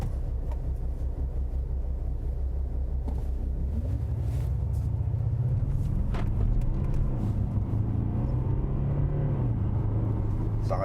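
Maserati Ghibli diesel car accelerating on a road, a steady loud engine drone with rising tone as revs climb, heard from inside over continuous road rumble.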